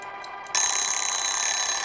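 A timer alarm sets off indoors in a quiet house, first as three short faint beeps and then as a loud, continuous high-pitched electronic ringing that holds steady to the end.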